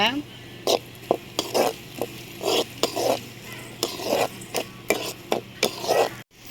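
A spatula scrapes and stirs onions around a pan in repeated rhythmic strokes, with a soft sizzle of sautéing underneath.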